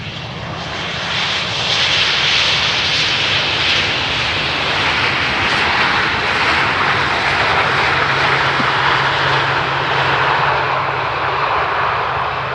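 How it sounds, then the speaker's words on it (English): A loud, steady airplane engine roar at Amsterdam Schiphol Airport swells in over the first seconds and holds, a broad continuous drone with no voices. "Also an airplane on the move."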